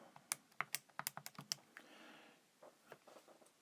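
Rapid clatter of keys as numbers are punched into a calculator for a trigonometry problem, about a dozen close, crisp taps in an uneven burst followed by a few softer, sparser presses, with no talking.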